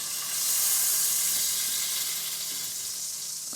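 Deviled frankfurters sizzle in a skillet, a steady close broadband hiss of browning fat that swells slightly early on and holds evenly throughout, with no voices.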